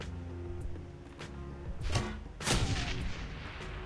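A grenade detonates in Shadowrun Hong Kong, a pair of sharp blasts in quick succession over a low, humming game music bed.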